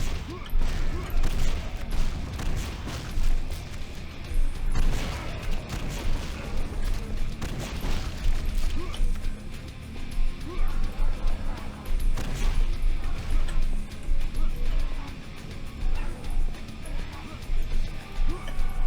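A rocket launcher fires in the PC shooter Painkiller: Heaven Has a Hitman, throwing out repeated loud explosive blasts and crashes in an uneven rhythm over dense, busy game noise.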